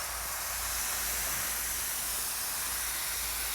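Chicken broth poured over butter and other ingredients for pork tenderloin sizzles in a hot disc cooker pan, giving a steady, loud hiss of steam that barely changes throughout.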